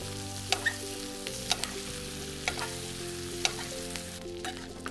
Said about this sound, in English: you can hear the thyme start to pop